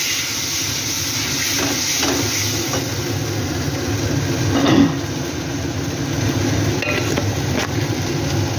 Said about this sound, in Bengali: একটুখানি মশলার জল দিয়ে দিলাম যাতে মশলাটা না পুড়ে যায়